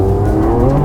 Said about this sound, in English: You can hear the engine roaring.